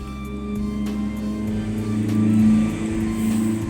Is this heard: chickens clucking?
no